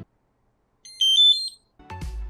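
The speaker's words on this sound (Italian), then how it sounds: "un'altra cosa che cambierei sono i suoni della camera" A few short high electronic beeps from a Madventure 360 action camera in quick succession, clean and close, followed by a brief rustle.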